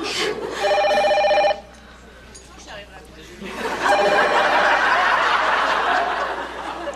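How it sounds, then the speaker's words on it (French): A telephone rings with a bright electronic trill in two bursts, loud and close, while people chatter and laugh around it in a home-style room. "Petite Laine, réponds. Ça doit être une réservation."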